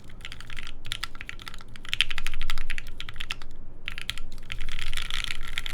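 Steady, dense typing on a custom 65% mechanical keyboard fitted with Alpaca switches on a soft polycarbonate plate, with shelf liner dampening; close, continuous muted clacks in flowing bursts with no talking.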